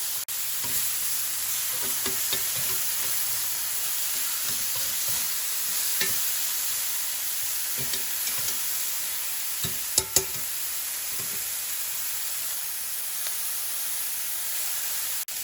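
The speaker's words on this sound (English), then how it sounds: "I'm gonna flip it now. And let it cook for another 2 minutes." Tuna steak sizzling in a hot frying pan after being flipped, a steady close hiss of frying with occasional light clicks and stirring sounds.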